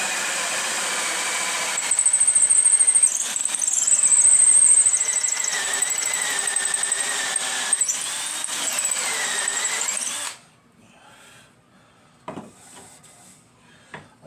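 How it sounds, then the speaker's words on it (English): Power drill boring into wood for a fishing pole storage rack: a loud, high whining squeal with wavering pitch for about ten seconds, then an abrupt stop followed by quiet handling clunks. "I'm going to drill halfway through and go from the other side so I don't have no tear out"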